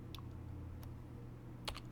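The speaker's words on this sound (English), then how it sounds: "we can go ahead and add some text if we want to, and we can we can just type in" Keystrokes on a computer keyboard during data entry in a FileMaker point-of-sale setup: a few scattered, quiet clicks over a steady low hum, no one talking.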